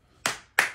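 Two sharp hand claps about a third of a second apart, close and loud in a quiet home, with no voices.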